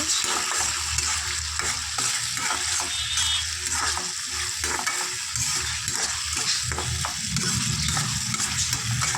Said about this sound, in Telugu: ఇప్పుడు దంచి పెట్టుకున్న అల్లం చిన్నులపాయ పేస్ట్ వేసుకోవాలి